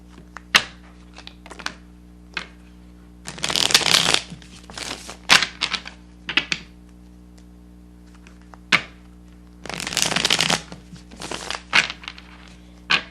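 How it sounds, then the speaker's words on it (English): Brisk bursts of tarot card shuffling, each a rapid papery riffle, separated by soft taps and shuffles of cards being handled; no talking. "Shuffle one more time."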